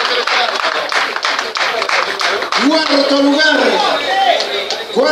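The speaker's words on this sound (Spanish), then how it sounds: "Aplausos para estos representantes de la ciudad de Puno." Audience clapping for rally drivers at a Ciudad de Arequipa rally prize ceremony, a steady dense patter of hands that continues under a loud announcer's voice, with cheers rising near the end.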